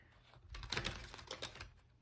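A quick, soft riffle of tarot cards being shuffled, a short burst of rapid flicking and tapping close to the microphone.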